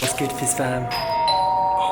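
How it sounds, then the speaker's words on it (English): A doorbell chimes with clear ringing tones as a person speaks briefly at the start, the bell tones lingering afterward. "that's the doorbell."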